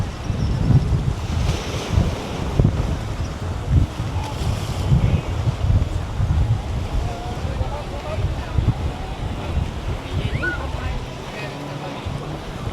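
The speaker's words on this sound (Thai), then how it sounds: "น้ำทะเลมันจะมาแบบนี้" Sea waves wash ashore at Bang Saen beach in Thailand, a steady broadband surf roar with gusty wind buffeting the microphone, continuous and fairly loud throughout with no clear separate breaks.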